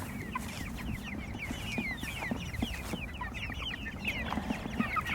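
Chickens clucking in a coop, several hens and fowl giving repeated short clucks and chirpy calls at close range, busy and overlapping, with soft scratching and movement beneath.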